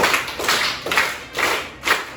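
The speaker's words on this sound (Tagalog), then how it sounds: "bigyan ninyo ulit si Zinen ng 5 palakpak" A group claps in unison, five loud bursts of applause spaced evenly about half a second apart, with no talking.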